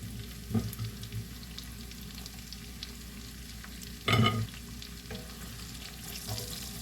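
White parts of green onion sizzle softly in a pan mixture, a low steady frying hiss with a couple of brief stirring scrapes and one louder clatter midway, no voices.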